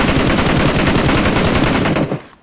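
Rapid automatic gunfire in the mobile battle royale game PUBG Mobile, a dense continuous burst of shots lasting about two seconds before stopping abruptly, loud and close with no talk.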